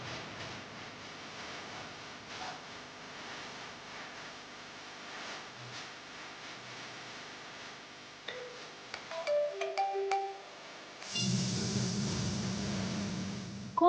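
A mobile phone ringtone plays a short electronic melody of bright tonal notes over a quiet indoor background, then gives way to a louder, fuller burst of sound.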